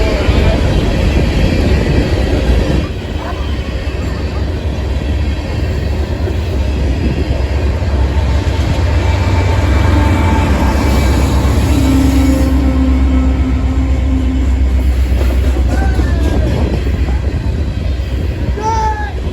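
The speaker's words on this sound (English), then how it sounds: "The northbound train in question ended up being a Norfolk Southern empty grain train." A loud, steady rumble of a heavy Norfolk Southern empty grain train rolling past nearby in central Ohio, continuous clatter and roar with squeals rising over the din.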